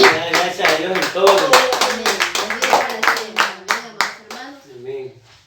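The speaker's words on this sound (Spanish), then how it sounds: "Denle un fuerte aplauso a Dios" Congregation clapping hard during a church teaching service, a dense run of sharp hand claps that builds and then tapers off toward the end, loud and close, with a few voices mixed in.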